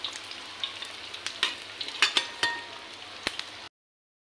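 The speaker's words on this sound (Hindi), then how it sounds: "साथ में डाल देंगे ये प्याज, जो हमने 2 प्याज को बारीक काट रखा था।" Finely chopped onions frying in a pan for a yogurt-based tinda (round gourd) curry, a steady close sizzle with scattered sharp crackles and pops throughout, no voices.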